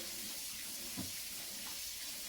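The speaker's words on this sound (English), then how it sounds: "I'm going to run some warm water in it, even though I have it on hot water" Warm water runs from a tap into a white plastic bucket in an apartment, a soft, steady hiss heard close but quiet.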